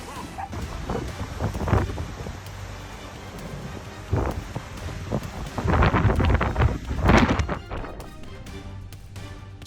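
A dog barks in several loud bursts outdoors amid gusting wind noise, the bursts spaced irregularly over a steady rumbling background with no talk.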